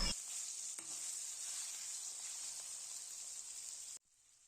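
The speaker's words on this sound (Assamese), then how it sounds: "ভালকে মাংসখিনি 2-3 মিনিট মান ভালকে ভাজি লব" Pieces of local chicken fry in a pan for an Assamese recipe, giving a steady, bright hiss at low level with a faint scrape of stirring near the start, then cutting off abruptly.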